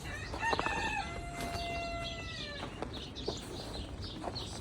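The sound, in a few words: rooster crowing and hens clucking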